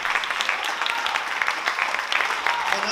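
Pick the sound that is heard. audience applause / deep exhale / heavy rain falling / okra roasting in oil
audience applause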